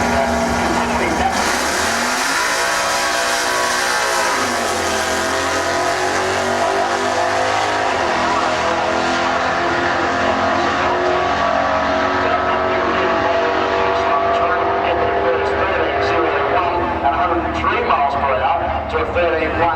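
Holden Monaro launching down a drag strip, its engine roaring loud and sustained through the run, with tire noise and race commentary talking over the whole pass.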